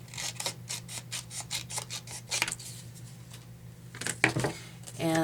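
Scissors cut through paper for an envelope journal: a quick run of crisp snips near the start, then a pause and a few more cuts with light paper handling, close and alone with no talking.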